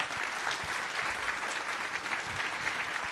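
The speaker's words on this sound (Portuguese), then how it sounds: "Uma salva de palmas para a Sandra." An audience applauds Sandra, technology director, at an Itaú product leadership talk, with steady, dense clapping filling the room for a few seconds at an even, sustained level.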